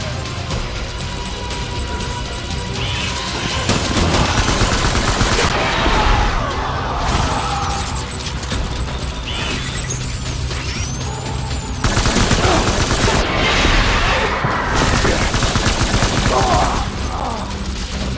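Sustained gunfire and machine-gun bursts from a battle in the video game Death Stranding, loud and continuous for the whole stretch, with heavy rattling volleys and occasional booms layered over a dense battle roar.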